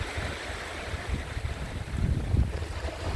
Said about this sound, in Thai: บรรยากาศนะครับไม่ว่าจะเป็นคลื่นน้ำทะเลนะครับ